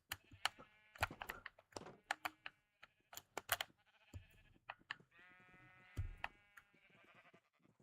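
Sheep in Minecraft Legacy Console Edition bleating repeatedly in short wavering calls, several overlapping, alongside clicky tapping sounds.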